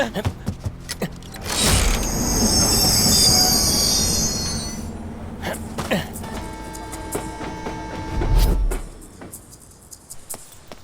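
A train runs along the rails with loud, drawn-out squeals of wheels on steel, heavy rolling clatter and rumble that rise and fade, and voices talking over parts of it.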